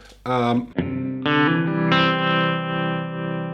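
An electric guitar plays a few struck notes that ring on with a wavering, pulsing effect, clear and up close with no talking.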